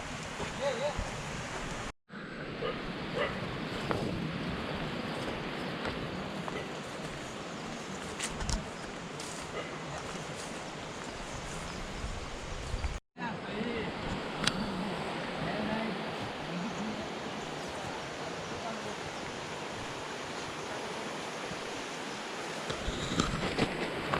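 A water stream near a hidden waterfall in Jawhar makes a continuous broad rushing hiss that runs nearly the whole time, broken by two brief dropouts, with a person talking over it.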